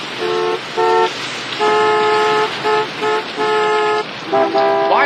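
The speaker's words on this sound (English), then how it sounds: "Why are they all honking?" Car horns honk repeatedly in traffic, long and short blasts from several vehicles overlapping and stopping in an uneven rhythm, loud and close, with no talking.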